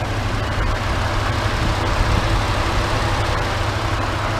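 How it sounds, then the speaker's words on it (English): A 2014 Ford F150 Lariat pickup idles on a hot day with a steady, low engine drone and faint ticking, recorded close and continuously with no speech. "Probably got a lot of engine noise there because last couple of days been almost 100 degrees"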